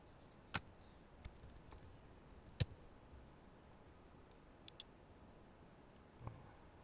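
A computer mouse clicks while logging in to an Easy WiFi internet webcam in Google Chrome: a few sparse, sharp, faint clicks spaced irregularly in a quiet room.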